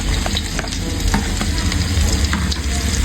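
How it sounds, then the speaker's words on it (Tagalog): Onion and ginger sizzle and get stirred in hot oil as chicken tinola is started, a steady loud frying hiss with scattered scrapes and stirring clicks. "Idadagdag na rin po ni Bal yung sibuyas at luya."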